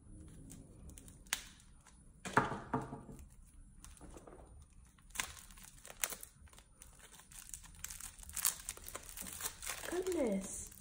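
Plastic packaging around a crumbly bath bomb crinkles and rustles in scattered bursts as it is unwrapped close by, with sharp crackles and tearing sounds, while a person talks at times.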